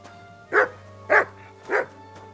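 A dog gives three evenly spaced, loud barks close by, with short quiet gaps between them and no voices.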